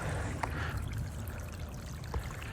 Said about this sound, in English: It is nuts how much water is flowing in these ditches.